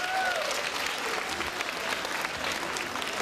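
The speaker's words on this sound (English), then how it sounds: "clap for that." A crowd at a martial arts and kung fu hip hop event claps in a steady, dense burst of applause, moderately loud throughout, with a faint murmur and a brief whistle-like tone early on.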